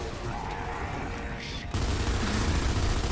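Gunfire lands a headshot in Gears of War: Judgment at Halvo Bay Military Academy, with a dense rattle of shots that jumps suddenly louder and keeps pounding steadily.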